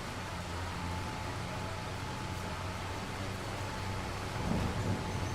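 Rain with distant thunder during a live-streamed outing, heard as a faint, steady wash of noise with low rumbles, one slightly stronger swell near the end; no speech.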